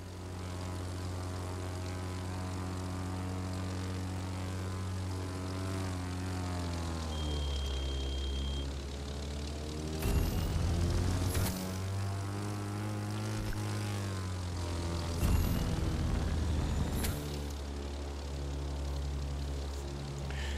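Propeller airplane in the racing game The Crew 2 drones steadily at low altitude, its engine pitch sliding and swelling as it maneuvers, with sharp metallic bursts and clatter briefly cutting through the continuous roar.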